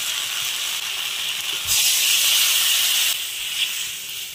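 Water poured into a hot pan of tomatoes, rohu fish and mustard paste gives a steady, loud hiss that swells midway and then eases back.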